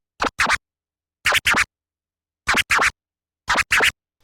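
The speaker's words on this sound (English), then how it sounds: "this is exactly what a scribble scratch sounds like" Scribble scratches on a DJ turntable, played alone in four short paired bursts spaced about a second apart, each a quick rapid stutter of scratched record sound, loud and close.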